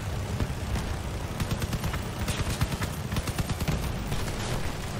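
Rapid automatic bursts from Blue Vector machine guns in a shooter video game, a dense rattling stream of close, loud shots that runs continuously for several seconds with almost no talk.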